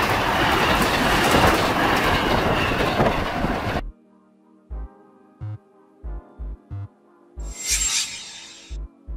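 A loud rush of a passing train fades abruptly, leaving rhythmic clickety-clack wheel thumps and a brief high squeal as the regional train rolls away.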